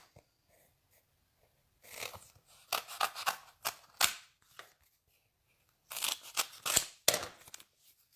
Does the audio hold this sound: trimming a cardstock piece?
yes